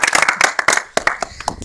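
Audience applause at an informal group discussion: a short burst of scattered, uneven hand claps, fairly close, with a little talk mixed in.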